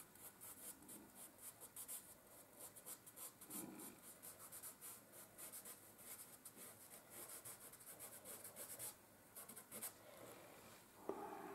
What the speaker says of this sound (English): So I'm really pushing the charcoal into the paper.